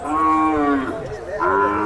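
A Khillar cow at a busy cattle market lets out a loud, close, drawn-out moo, dipping midway and then rising again in a second call over crowd murmur.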